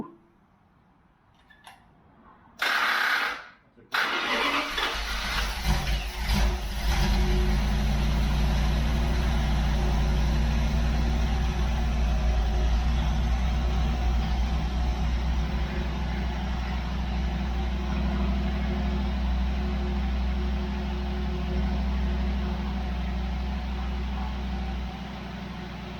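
A Dodge 318 engine that had sat unused for ten years cranks briefly in a few short bursts, then catches and settles into a continuous, loud, rumbling idle that runs steadily to the end.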